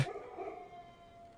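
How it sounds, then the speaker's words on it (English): A dog howls in the background, faint and distant, with a single short, drawn-out, wavering howl that trails off quickly. "I love how you can hear the dog in the background when I dig"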